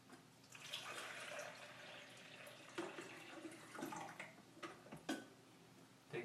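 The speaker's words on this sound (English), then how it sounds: "take your water, which is measured in the coffee pot, and put it into the back of the coffee maker" Water poured from a coffee pot into the back reservoir of a drip coffee maker, a steady splashing trickle with a few louder splashes and drips near the end.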